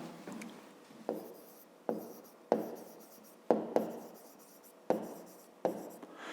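Pen strokes scratch across paper as numbers are worked out for a fifth-grade maths exercise: seven or eight short, close scratches in an uneven rhythm, each starting with a sharp touch and then fading, with no voice.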